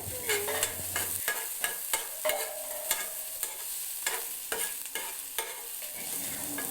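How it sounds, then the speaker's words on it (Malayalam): Chopped tomatoes sautéing in a pan for fish masala, a soft steady sizzle broken by repeated scraping stirs of a spoon, close and alone with no talk. "അരിഞ്ഞു വെച്ച ആ തക്കാളിയും കൂടി ഒന്ന് ഇട്ടിട്ട് നന്നായിട്ടൊന്ന് മൂപ്പിച്ചെടുക്കുന്നുണ്ട് ഞാൻ"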